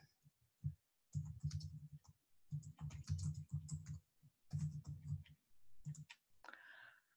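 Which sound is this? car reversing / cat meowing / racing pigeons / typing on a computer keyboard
typing on a computer keyboard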